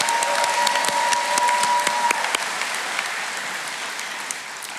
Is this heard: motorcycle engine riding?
no